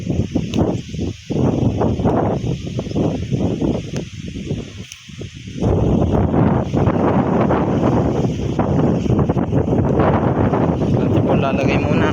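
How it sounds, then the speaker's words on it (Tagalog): Strong wind blowing outdoors on a farm during a chili harvest, heavy gusty buffeting against the microphone, loud and continuous, with rustling and a brief lull before it picks up again. "Wow, hangin po yan, ang lamig din eh ba."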